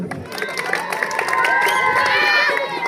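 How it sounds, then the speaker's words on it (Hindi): A school audience at a teachers' conclave in Kargil breaks into cheering and clapping, with children's high shouts rising over a busy crowd for about three seconds. "और जोरदार तालियां।"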